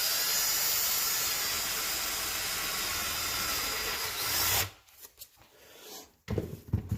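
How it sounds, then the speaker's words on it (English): A loud, steady whirring drill bores a hole in the center of a disc for a 6-inch firework can shell, running continuously, then cutting out abruptly, followed by a few brief bursts as it restarts. "I'm going to drill a hole in here,"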